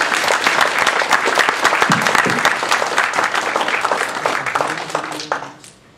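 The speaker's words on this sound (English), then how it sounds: "Let's have a round of applause for all of our Table Topics contestants." A roomful of people clap steadily in sustained applause for Toastmasters Table Topics contestants, fading out at the end.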